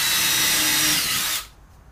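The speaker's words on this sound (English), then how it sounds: "I want to pre-drill these holes so we don't split the wood" A power drill whirs loudly and steadily as it pre-drills holes into wood for a frame, high-pitched and close, then stops abruptly near the end.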